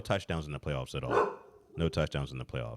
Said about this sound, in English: And apologize for my dog here.